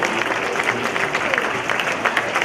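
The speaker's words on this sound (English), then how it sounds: "stand up, give a round of applause" Steady applause from a gala audience, dense clapping throughout, with a voice faintly audible underneath.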